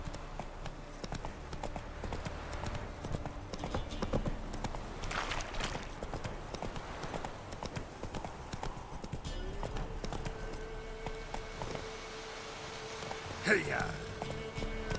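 Hooves of Roach, a horse in the video game The Witcher 3, clip-clop at a steady gallop throughout, loud and close, with a rider's brief shouts and ambient game sounds around them.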